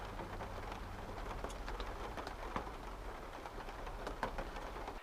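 Rain falling steadily around a parked vehicle in the Peak District, a soft, continuous patter with scattered heavier drops, fairly quiet and with no voices.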